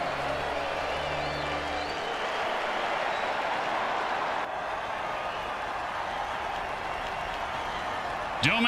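A football crowd roars steadily after a touchdown in a simulated league game, a broad continuous wash of cheering and applause throughout, with a brief tonal effect at the start and a short sound near the end.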